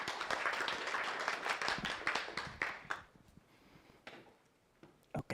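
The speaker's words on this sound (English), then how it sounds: "welcome him with a loud applause" An audience at a tech meetup claps to welcome a speaker, a short burst of fairly quiet applause that thins out into a few scattered claps and taps.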